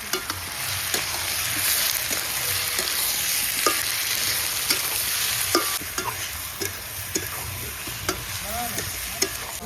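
Potatoes and chopped tomatoes frying in a pan for Kashmiri aloo dum, a steady close sizzle broken by frequent scraping and clinking strokes of the stirring spoon.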